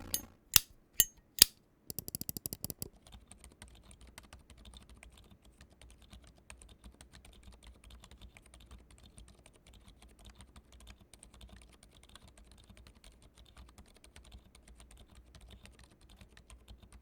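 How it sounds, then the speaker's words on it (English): A few sharp clicks, then a long stretch of soft, muted keystrokes in a steady rapid patter from a nearby GamaKay LK97 mechanical keyboard with silent Gazzew Boba U4 switches and Glorious Aura V2 PBT keycaps; no talking. "time for the GamaKay LK97 typing test with some silent Gazoo Boba U4s"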